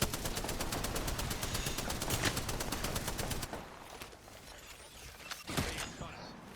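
Video game gunfire rattles in a dense rapid stream of shots for several seconds, then drops to scattered, quieter bursts and single shots.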